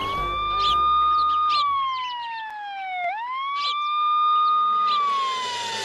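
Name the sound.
ambulance siren in a cartoon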